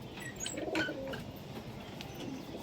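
Soft cooing from a desi high-flyer pigeon at a Nabadwip pigeon sale, one short burst of calls near the start, then low background hiss.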